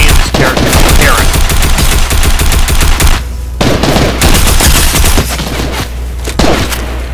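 Loud, dense bursts of automatic weapon fire from a video game hammer almost without pause, with two brief gaps and a few heavier impacts between sustained volleys.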